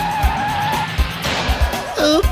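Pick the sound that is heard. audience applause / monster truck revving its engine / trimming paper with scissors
monster truck revving its engine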